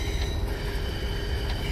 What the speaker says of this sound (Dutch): Vanwege onze lange trein.